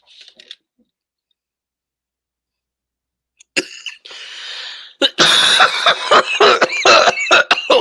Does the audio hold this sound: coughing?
yes